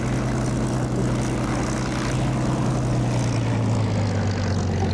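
A propeller aircraft engine in the DCS flight simulator drones steadily with a low, throbbing hum, loud and continuous, with no voices.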